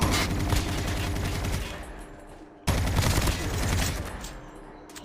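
Rapid automatic gunfire in the mobile shooter game Call of Duty Mobile: two loud, dense sustained bursts of shots split by a short gap, close and dominant.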